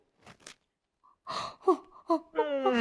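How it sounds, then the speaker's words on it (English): During a voice warm-up exercise, a breathy yawn-like vocal sound with airy gasps and sighs, ending in a sustained open voiced tone sliding upward, fairly quiet and close. "So go back to a yawn."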